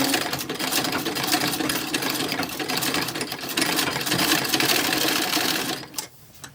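A sewing machine stitches a toddler's hat in 1910s–1920s style, running steadily and close for about six seconds before stopping abruptly near the end.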